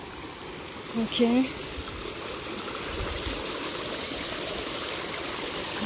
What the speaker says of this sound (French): Allez, un petit cours d'eau.